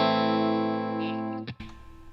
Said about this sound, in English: This is the same sound, our clean sound again.